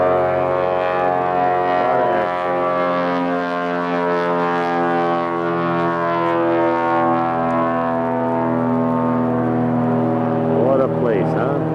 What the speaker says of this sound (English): Seaplane taking off.